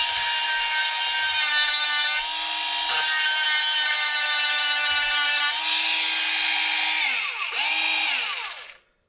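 An electric chainsaw sharpener grinds the chain's teeth with its stone, a loud, steady high-pitched motor whine with a rough grinding edge that dips briefly near the end and then winds down to silence.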